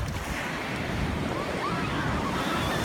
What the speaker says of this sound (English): Oh, the waves is coming.